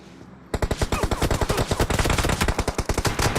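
Rapid automatic gunfire in PUBG Mobile, a loud, evenly spaced burst of sharp shots rattling for about three seconds after a brief quiet moment, close and dominant.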